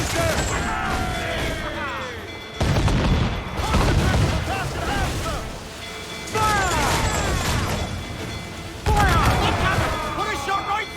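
Cannons aboard a sailing warship in Assassin's Creed IV Black Flag fire in heavy booming volleys at sea, three loud bursts of rolling blasts and crashes, with shouting crew voices between and over them.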